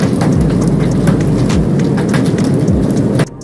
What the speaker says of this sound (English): This horrible hailstorm, accompanied by a very strong wind